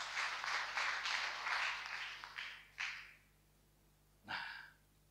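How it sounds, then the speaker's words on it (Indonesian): Applause from a church congregation for the musicians at a Christmas service, a dense clapping burst lasting a few seconds that fades away, followed by a short isolated sound. "Beri tepuk tangan untuk pemain musik."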